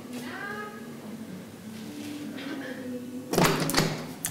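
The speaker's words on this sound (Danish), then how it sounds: "Jeg tror, han banker lige på." Someone knocks on an apartment door, a quick cluster of raps that comes after a stretch of voices talking.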